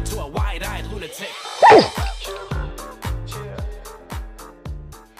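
Dogs on a snowy hike bark and whimper close by, with one sharp yelp standing out amid repeated short vocal bursts.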